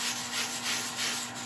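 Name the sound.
polishing olive ash bowl with True Grit abrasive paste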